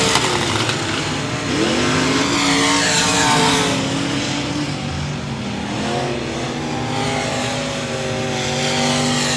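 Crate late model race cars roar around a dirt speedway in Texarkana, their engines droning loud and steady with rising and falling revs as the pack passes, with no talk.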